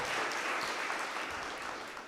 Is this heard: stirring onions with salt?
no